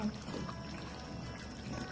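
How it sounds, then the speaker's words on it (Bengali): Water poured into a pan of chicken bhuna with potatoes and chickpeas, a short soft steady pouring rush, fairly quiet and alone. "আমি এখন পানি দিয়ে দিব।"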